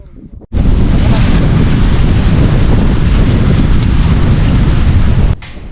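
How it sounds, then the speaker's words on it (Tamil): Strong wind buffets the microphone in a continuous roaring rush on a mountaintop near Ranipet, starting abruptly and holding steady for about five seconds before cutting off. "இங்கே வந்து காற்று சூப்பராக வீசுதுங்க"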